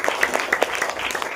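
Congregation clapping hands together during a Hindi Christian prayer meeting, a quick run of fairly even claps, moderately loud and crowd-like, lasting only a moment with no talking.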